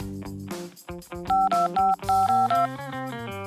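A phone keypad in the Poppy Playtime video game gives a quick sequence of bright dialing tones as a password is entered, each short beep sounding over a loud backing of game music.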